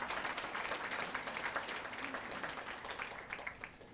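An audience at an LGBTQ awards ceremony applauds, dense clapping from a crowd that holds steady for a few seconds and begins to thin toward the end.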